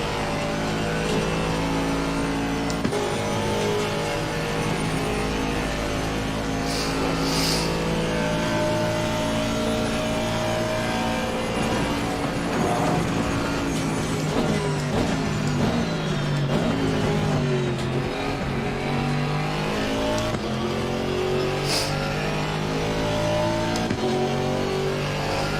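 GT4 race cars at Bathurst in a racing video game, a continuous loud engine whine with rising and falling revs through gear shifts, other cars' engines layered around it.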